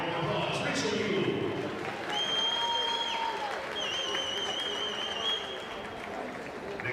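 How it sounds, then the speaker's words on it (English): Crowd applause fills a school gym at a varsity basketball senior recognition, a steady moderate clapping with a few whistles and shouts mixed in above the noise. "All give a round of applause, Rachel Yule."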